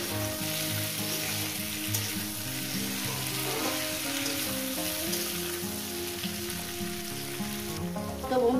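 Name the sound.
okra frying in a pan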